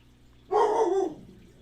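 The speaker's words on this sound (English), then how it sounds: "Sorry about the dogs." A dog gives a single loud bark indoors, close and sharp against a quiet room background.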